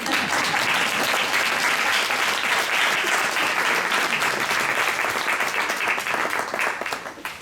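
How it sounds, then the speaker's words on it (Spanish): Audience applause at a book presentation in the Ateneo de Madrid: dense, sustained clapping from a crowd at steady loudness, easing off slightly in the final second. "Pueden aplaudir, no hay ningún problema"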